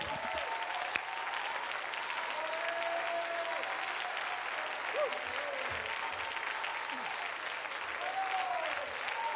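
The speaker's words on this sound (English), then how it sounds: "I need about 120 seconds of clapping hands." An audience claps at a sermon-style talk, a dense, sustained round of applause from a crowd that holds steady throughout with scattered whistles and cheers over it.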